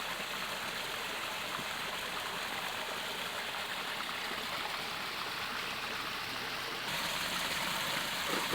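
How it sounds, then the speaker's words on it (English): A small waterfall spills into a pool beside a hiking trail toward Chestnut Bald, a steady broadband rush of falling water that is continuous and fairly faint, with no voices. "Little waterfall here."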